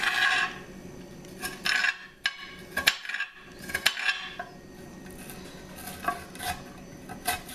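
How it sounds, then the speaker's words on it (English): Knife chopping an onion on a cutting board while stuffed peppers are prepared, giving a run of sharp, close taps and clacks at an irregular rhythm with brief pauses, heard alone with no talking. "Just keep chopping that up"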